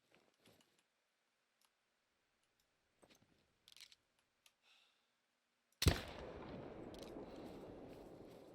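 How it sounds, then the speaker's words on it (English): A single sharp rifle shot rings out in theHunter: Call of the Wild on the Te Awaroa map, breaking near-silence and trailing into a long rolling echo across open terrain. "It's really interesting how the gun sounds different in maps"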